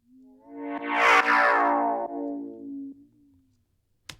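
An FM synth bass patch in Ableton with a zero-attack amp envelope swells in as the FM amount rises, its bright harmonic sweep peaking and fading over a few seconds, alone and moderately quiet, with a brief click at the end.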